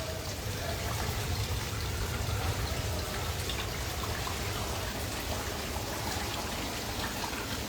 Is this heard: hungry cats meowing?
no